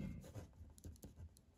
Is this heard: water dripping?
no